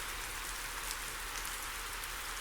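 Steady rain patters on surfaces in Euro Truck Simulator 2 with Promods, a dense, even hiss that stays constant throughout without any voices.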